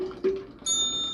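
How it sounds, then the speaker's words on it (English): A ring-for-service bell struck once with a bright ringing ding that lingers to the end, after a softer tone at the start, no talk. "Ring for service"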